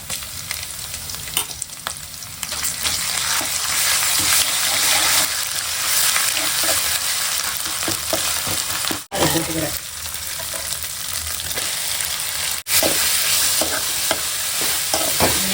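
A masala paste is sautéed and stirred in a hot pan, giving a loud, dense, continuous sizzle with scraping strokes throughout. Two brief dropouts break the sound near the middle and later on, and there is no speech.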